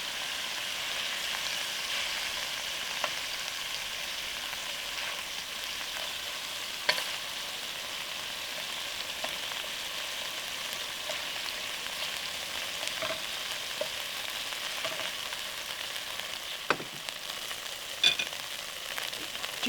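Beef pieces frying in a pan for a Thai Panang curry make a soft, continuous crackling sizzle, with occasional sharper pops and light clicks as the meat is turned.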